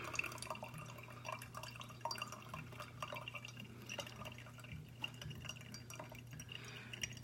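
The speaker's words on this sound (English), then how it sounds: "get the remainder of that liquid out" Water kefir liquid drains and drips from the strained grains, a soft steady trickle with scattered small drips under a low background hum, with no talking.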